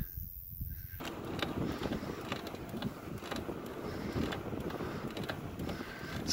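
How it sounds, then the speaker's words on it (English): Steady breeze blowing across the microphone on a warm day along the Trans Pennine Trail between York and Hornsea, a continuous broadband rush with light gusts and occasional creaks, no talking. "It's very warm, but there's a really good breeze, so it's keeping us cool."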